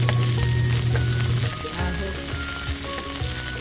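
Garlic hits hot oil already frying ginger for fish escabeche, setting off a loud, continuous crackling sizzle close up, with faint tonal hums underneath and no talking.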